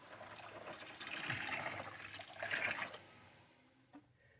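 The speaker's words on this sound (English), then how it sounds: "I'm going to go ahead and add some more water to this" Water splashes and trickles into a blender for a few seconds while making homemade paper pulp, swelling twice before fading out, followed by a small knock.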